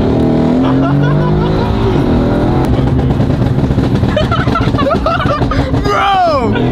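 A loud car engine roars and revs up close, rising and falling in pitch, with people talking and laughing excitedly over it throughout.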